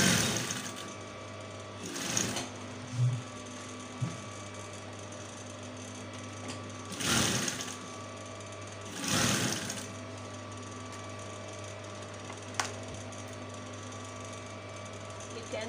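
A sewing machine stitches fabric for a corset tube top in short bursts, its rapid mechanical whir starting and stopping a few times over a steady background hum, close by.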